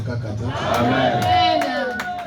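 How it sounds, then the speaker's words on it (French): A church congregation shouts for joy, a loud crowd of voices cheering and calling out together with scattered claps, filling the room. "Cri de joie"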